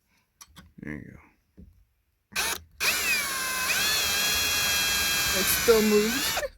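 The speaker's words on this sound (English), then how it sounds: "Bust out the tiny drill to pre-drill the holes to attach this strike plate." A small power drill pre-drills screw holes for a door strike plate. A brief voice comes first, then a steady high whine runs close and loud for about four seconds.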